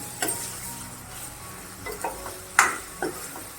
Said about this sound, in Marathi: आता डाळ घालून ती, आणि आता ही डाळ आपल्याला परतत राहायची।